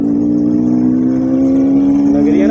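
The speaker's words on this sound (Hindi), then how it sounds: "आज मेरी बाइक की आवाज़ भी चेंज लग रही होगी आप सबको ये देखो" Motorcycle engine with its air filter removed, revving steadily up close, a loud continuous drone with a slight rise in pitch toward the end.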